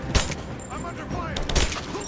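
Video game gunfire in Rise of the Tomb Raider: two loud, close bursts of shots with booming impacts, separated by a short gap, with in-game voices talking over the combat.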